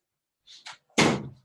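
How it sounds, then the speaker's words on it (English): A door swings and is pushed shut close by, with a couple of soft scraping movements followed by a solid thud and a short rattling decay. "let me just close this door."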